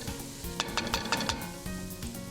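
Flour cooking in melted butter in a pan sizzles steadily, with a few sharp scraping clicks from stirring scattered through the middle, close and moderately quiet with no talking.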